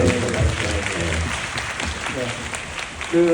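An audience at the Bugonia special film talk with an actor applauds in a brief, steady wash of clapping, with voices talking over and alongside it.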